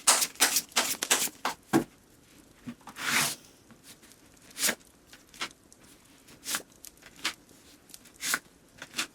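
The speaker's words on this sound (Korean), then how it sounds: "리딩에 앞서서 여러분들의 상황에 대해서, 그리고 흐름에 대해서 카드를 쭉 뽑아보도록 할게요." Tarot cards are shuffled and drawn by hand in a close, quiet room, with irregular soft riffling and slapping bursts, some in quick clusters and others spaced apart.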